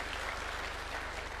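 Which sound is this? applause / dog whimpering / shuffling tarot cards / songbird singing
applause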